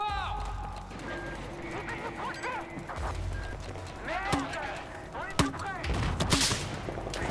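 Battlefield 4 combat with scattered gunshots and sharp sniper cracks at varying distances, heard in bursts amid other battle noise, with someone talking over parts of it.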